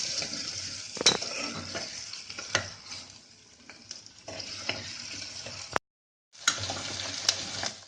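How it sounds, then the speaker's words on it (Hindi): Onions frying in a pan until light pink, a soft steady sizzle broken by sharp clinks of a utensil against the pan and a brief silent gap, near and moderately quiet. "डाल देंगे हम प्याज को हमने हल्का गुलाबी होने तक भूनना है।"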